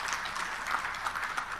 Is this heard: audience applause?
yes